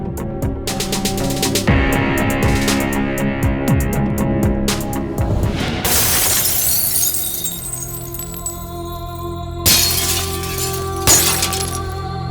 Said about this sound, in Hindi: कांच टूटने की आवाज सुन के अमर से अकबर बन जाता है।